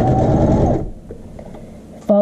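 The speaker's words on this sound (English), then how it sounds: "Now we're going to be sewing our inseam with half inch seam allowance." Sewing machine runs steadily while stitching the inseam of a child's shorts with a half-inch seam allowance, a loud continuous motor hum that stops abruptly partway through, leaving quiet handling noises before a voice starts to speak.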